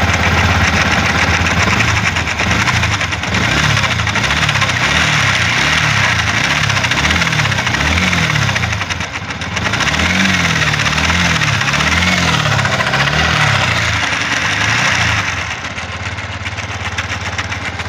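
Yamaha R15 V3 motorcycle engine idling with an abnormal noise, a steady close-up running drone with a regular pulsing, knocking rhythm throughout and no talk.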